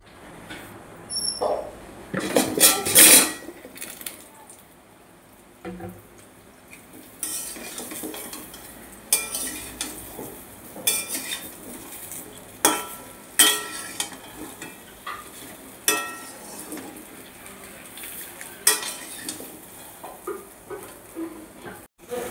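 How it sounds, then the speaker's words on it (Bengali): Mango pieces poured into a pan and stirred for a sweet pickle with panch phoron, giving a run of close metallic scrapes, clanks and knocks over a soft sizzle. "এবারে আমি আমগুলোকে ঢেলে দেব।"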